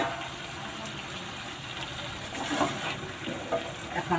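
Taro stolons dropped into shrimp and spice paste frying in a pan give a steady close sizzle, with a few brief stirring clatters toward the end.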